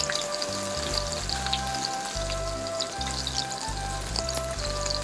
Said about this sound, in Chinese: 一般我们煎这种鱼片的话，这种菲力哈，通常都会先煎鱼皮的部分